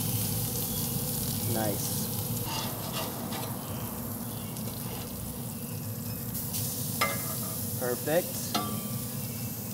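A salmon burger, just flipped on the grill, gives off a steady, fairly quiet sizzle, with a few tool scrapes and clicks near the end and a person speaking briefly.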